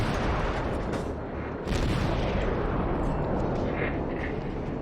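Heavy warship naval gunfire in World of Warships, a dense continuous roar of booming shots and rumbling explosions, loud and close throughout.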